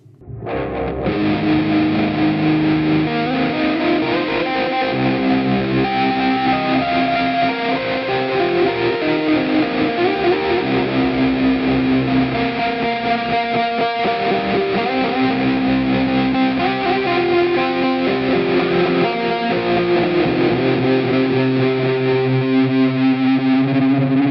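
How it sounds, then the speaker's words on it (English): An electric guitar is played through a Mooer Prime M2 modeller with flanger, echo, Big Muff fuzz, a Hiwatt-style amp, tremolo, a 4x12 cabinet, ping-pong delay and room reverb. It sounds thick and heavily distorted, with sustained chords and continuous swirling, echoing texture throughout. "Here's how it sounds with a flanger into an echo into the big muff."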